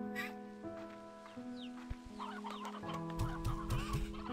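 Chickens cluck in the video game Slime Rancher 2, several short clucks and squawks over a sustained musical background, busiest toward the end.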